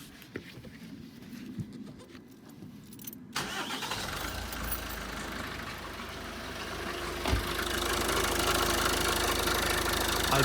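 A Ford car with an engine fault cranks and catches at about three and a half seconds, then settles into a steady, fairly loud idle, close by, with a brief knock around seven seconds.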